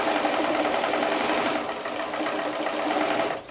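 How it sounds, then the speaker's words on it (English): Sewing machine stitching steadily around a felt notepad cover, a continuous close mechanical whirr of needle strokes that dips slightly midway and stops abruptly at the end. "And now I'm just going to stitch all the way around,"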